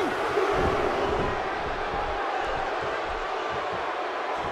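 A wrestling arena crowd in the WWE 2K16 video game roars and cheers in a steady, swelling wash of noise during a tag match.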